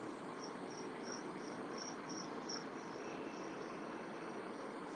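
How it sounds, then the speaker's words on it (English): A cricket chirps in steady, evenly spaced bursts throughout, high-pitched and fairly clear over a constant hiss of background noise, with no one speaking. "I hear the cricket"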